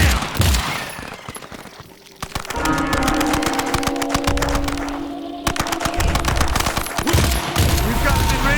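Rapid automatic gunfire in the video game EarthFall, long bursts of dense rattling shots with a brief lull, a voice calling out now and then.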